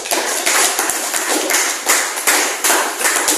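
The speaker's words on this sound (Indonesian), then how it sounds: "beri aplaus" A classroom of vocational high school students in a history lesson applauds after a group presentation, a dense burst of clapping with rhythmic swells across a few seconds, close and fairly loud.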